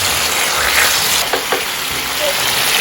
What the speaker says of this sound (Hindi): तो कंटिन्यूसली आप इसे फ्राई करें 3-4 मिनट तक।